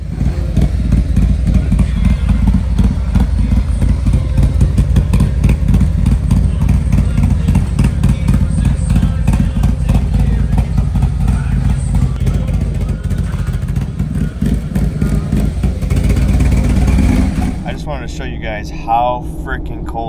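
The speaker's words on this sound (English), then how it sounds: "The Woods 22X D cam sounds great." Stage 2 Harley-Davidson Road Glide V-twin fitted with a Wood Performance 22XD cam runs loud and steady close by, a lumpy rumbling idle with clattery texture, then fades out near the end.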